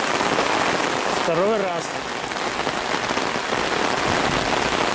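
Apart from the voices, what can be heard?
heavy warm summer rain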